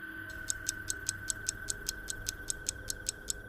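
A clock ticks in a horror story, with crisp, evenly spaced ticks about every fifth of a second, steady and clear over a faint background hum.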